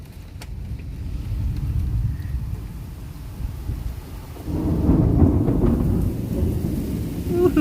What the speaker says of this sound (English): I'm not going out in the rain.